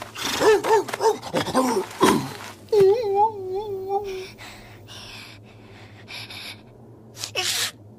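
A short, sharp sneeze bursts out amid whimpering, moaning vocal sounds, followed by quieter rustling and a brief cry near the end.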